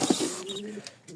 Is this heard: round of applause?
no